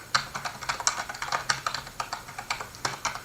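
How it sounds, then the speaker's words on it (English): Rapid keystrokes on a computer keyboard as a password is entered during Windows Server 2019 domain controller setup, a close, steady run of crisp clicks with no voices. "type in DSRM password."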